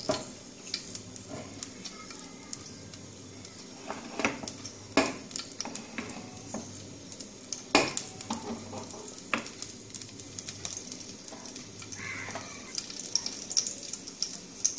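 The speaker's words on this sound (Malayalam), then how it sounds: "ആദ്യമായി ചട്ടി അടുപ്പത്ത് വെച്ച് ചൂടായതിനു ശേഷം എണ്ണ ഒഴിക്കുക" Oil heating in a pan on a stove for crab curry, a soft steady sizzle with scattered clinks and taps of utensils against the pan, fairly quiet and close, with no voices.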